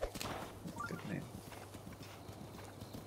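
Horse hooves clip-clopping in the video game Breath of the Wild, a quick run of hoof beats at the start that settles into a faint rhythmic patter, with brief voice-like sounds near the beginning.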